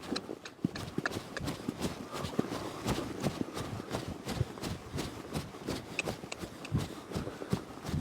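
Hooves clip-clop steadily on hard ground as a rather skittish horse walks nearby, with a rhythmic irregular patter of steps throughout.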